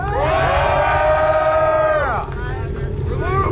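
A large crowd at a 2-step car competition cheers and shouts loudly for a Honda Prelude, voices blending into a sustained roar with rising whoops.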